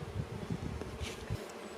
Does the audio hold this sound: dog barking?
no